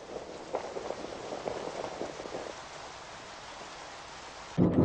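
Steady heavy rain falls in a rainforest, a dense continuous hiss with a louder, closer burst of downpour at the very end.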